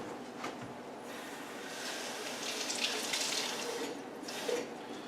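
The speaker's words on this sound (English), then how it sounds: "I'm also going to take a little bit of sink water and splash it into the jar." Sink tap water splashing into a glass jar, a short run of soft, irregular watery splashes and trickling, fairly quiet and without talk.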